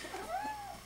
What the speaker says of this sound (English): The cat is climbing up my light box.